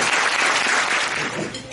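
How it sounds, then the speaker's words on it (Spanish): Congregation applauding at a church celebration of a bishop's fiftieth priestly anniversary, a short, dense wash of clapping at steady loudness. "Un fuerte aplauso para nosotros."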